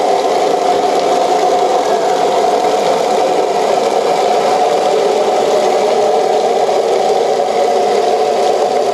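A trailer-mounted twin-engine hot and cold water sewer jetter idles steadily with a constant whirring drone and faint rattle, unchanging throughout with no other sounds.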